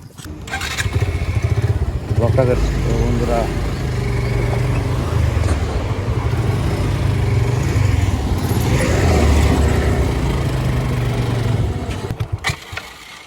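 A motorcycle engine runs steadily nearby while riding along a road toward a rubber garden, a continuous low rumble with gear-change shifts in pitch, a voice talking over it at times.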